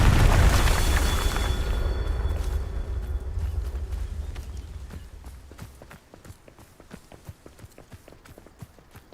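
A Confringo spell explosion in Hogwarts Legacy bursts as a loud, rumbling boom, then fades over several seconds while quick, light footsteps patter on.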